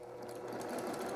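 A sewing machine stitching fabric, a quiet, rapid, even mechanical hum with a fast regular pulse of the needle, running alone without talk.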